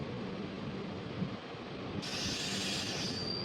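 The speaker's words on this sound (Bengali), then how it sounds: "ওই যে ট্রেনটা ওটা আসছে কিন্তু ইটারসির লাইন থেকে" A train approaches on the Itarsi line, heard as a faint, low steady rumble with a hiss that rises in the second half, distant and without speech.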